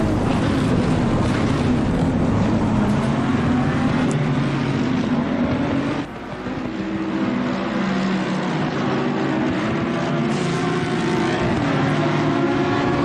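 Race cars in the Assetto Corsa Competizione racing game, engine roaring loudly and continuously at close range with gear shifts and a brief dip in revs midway, no voices over it.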